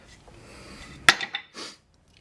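A big hammer strikes a broken bolt on a 1955 Willys CJ5 with one sharp metallic clang, followed by a couple of lighter clinks and a brief scrape in an otherwise quiet space.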